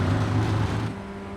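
Engine note of a Ray FF1600 race car in iRacing at Lime Rock Park, held at full throttle: a steady, loud buzzing drone with strong low harmonics, easing slightly in tone partway through, with no talking.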